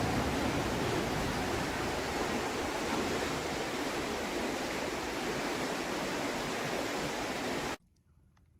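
A river rushes steadily in a broad, close, even wash of flowing water, then cuts off abruptly to near silence just before the end.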